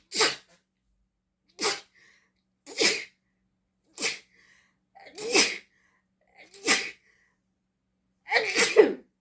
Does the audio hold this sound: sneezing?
yes